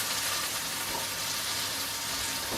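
Burger patties frying in a pan for a salt-and-chilli cheeseburger, a steady close sizzle and hiss filling the whole stretch with no talk.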